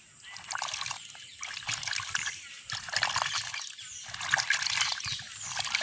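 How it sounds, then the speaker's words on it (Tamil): Dried fish being washed by hand in mildly warm water to loosen soil, with uneven trickling, dribbling and light splashing close by in repeated surges. "பச்சை தண்ணி விடுறதை விட மெல்லிய சுடு தண்ணி போட்டு கழுவினா அந்த மண்ணெல்லாம் கழுவப்பட்டு கண்டு"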